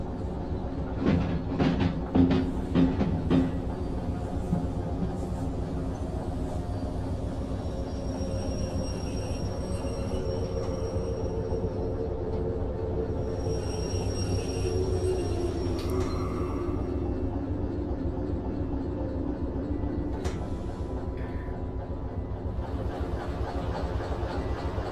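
Train rolling along rails in the video game Derail Valley, a steady low rumble with rhythmic clatter near the start, continuous and fairly loud throughout, occasional faint clanks later.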